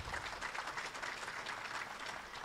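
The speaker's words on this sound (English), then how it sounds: "A round of applause, a better one." Audience applause at a closing ceremony, a steady dense wash of clapping from a large crowd, moderately distant and sustained throughout without any talk over it.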